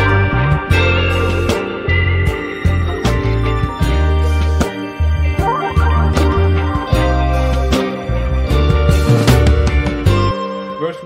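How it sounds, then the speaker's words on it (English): A Prophet 6 synthesizer plays a bright arpeggio of rapidly stepping, repeating notes over a thick low bass line, loud and continuous with no voices. "And I ended up deciding with this arp I found."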